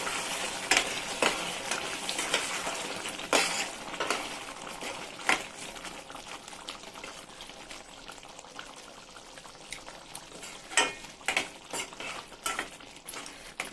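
Garlic curry cooking down in oil in a pan, a steady low bubbling and sizzle broken by scattered scrapes and clinks of a stirring spoon, close up with no talking.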